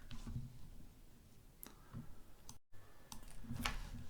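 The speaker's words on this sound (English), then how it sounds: "I'm going to click there." Computer mouse clicks, a few sharp, quiet taps scattered through a near-silent room, with one louder click near the end.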